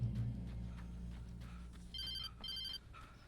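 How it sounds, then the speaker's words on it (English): A telephone rings in the Alan Wake video game. Two short electronic ring bursts come over a low, rumbling game ambience and are moderately clear with no talk. "Oh wait, phone call."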